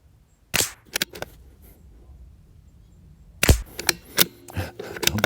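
Two sharp rifle shots from a CZ 457 Varmint MTR, ringing out alone about three seconds apart, followed by faint clicks and handling noises of the bolt and gear.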